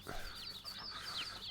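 Chickens clucking at a henhouse in the Farming Simulator 22 video game, several overlapping clucks and squawks over a steady ambient background, moderately loud with no talking.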